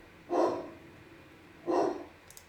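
A dog barks twice, a couple of seconds apart, each bark muffled and moderately close, with a quiet room behind and no talking.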